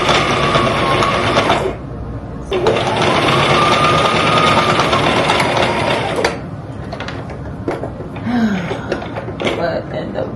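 Home sewing machine stitching an abaya, a close steady whirring run that stops briefly and starts again for several seconds, then lighter clatter and handling noises toward the end.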